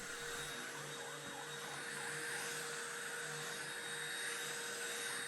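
Steady, continuous whine and roar of a vacuum cleaner running nearby, unchanging throughout with no voices.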